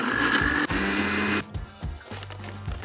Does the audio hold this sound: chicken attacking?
no